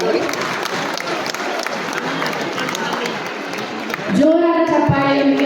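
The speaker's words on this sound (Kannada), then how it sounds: "ಜೋರಾದ ಚಪ್ಪಾಳೆಯೊಂದಿಗೆ ಪ್ರೋತ್ಸಾಹಿಸಬೇಕು." Audience applause at a school anniversary award ceremony for a 10th-grade student receiving a prize, a dense steady clatter of many hands throughout, with a voice rising near the end.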